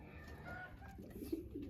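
Racing pigeons in a loft, with a few soft, low coos close by over faint background noise.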